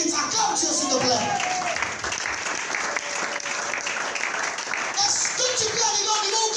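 A church congregation bursts into sustained, loud applause and cheering that fills the hall for several seconds, with voices calling out amid the clapping.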